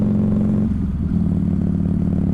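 A Yamaha R6 motorcycle fitted with a 1250 kit rumbles at low, restrained revs on a break-in ride. The steady, near engine note dips briefly as it shifts, then continues evenly with no talk.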